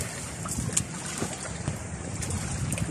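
A small fishing boat heads home over open water after traditional line fishing, with wind buffeting the microphone, water sloshing against the hull and a low engine hum.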